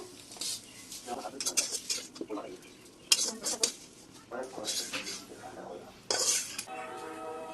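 Fried kharkol leaves scraped and lifted onto a metal plate, with scattered clinks and scrapes of utensil on metal in irregular bursts, close and moderately loud.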